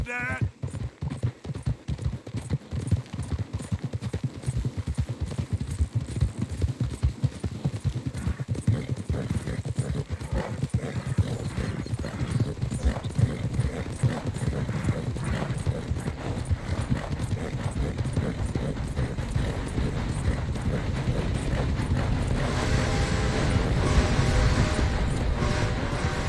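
Horse hooves gallop in the video game Red Dead Redemption 2, a loud and steady rhythmic pounding that continues throughout, layered with other in-game sounds.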